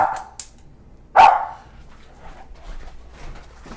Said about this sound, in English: Sorry, we have dogs barking apparently.